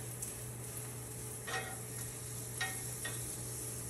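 Brioche buns toasting in unsalted butter on a warmed skillet, a soft continuous sizzle under a steady hum, with a few faint scrapes and taps from handling the buns.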